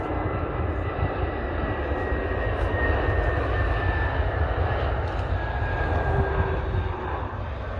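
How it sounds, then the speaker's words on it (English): An EasyJet Airbus A320 jet comes in to land during cold 2°C weather, a steady loud roar of engine noise with deep low rumble and a faint rising whine, holding constant throughout without voices. "Yup, it's an EasyJet A320. And here he comes."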